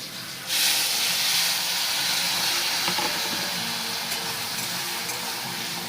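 Mustard paste goes into a pan of frying potatoes and pointed gourd, bringing a sudden burst of loud sizzling that settles into a steady hiss with faint crackles, no voices over it.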